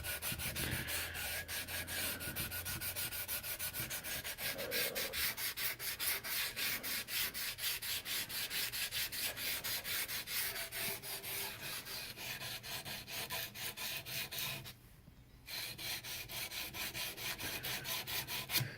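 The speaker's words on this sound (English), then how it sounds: "Using 150 grit sandpaper on this right now." Hand sanding a wooden muzzleloader stock with 150 grit sandpaper, a fast, even back-and-forth rasping close by that runs for most of the stretch with one brief pause near the end, alone and without talk.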